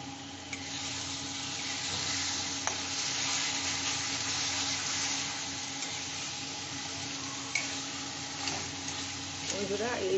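Masala spices for chicken curry sizzle gently in a covered pan, a soft continuous frying hiss with a few faint clinks and a quiet voice in the background.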